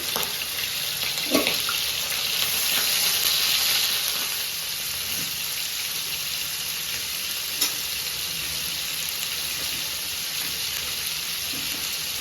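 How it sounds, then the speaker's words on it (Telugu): Pieces of chicken sizzling steadily in hot oil in a home kitchen pan, with a loud, continuous frying hiss and occasional stirring clinks. "హీట్ అయింది, నేను చికెన్ యాడ్ చేసేసుకుంటాను. కొంచెం మంచి ఫ్రై చేసేసుకుందాం."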